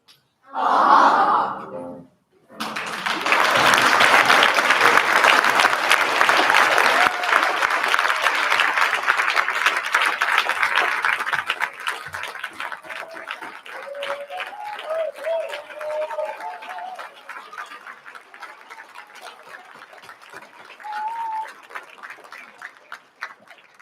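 A short burst of sound opens, then a crowd at a school choir concert breaks into sustained clapping that slowly thins out, with scattered voices and murmurs near the end.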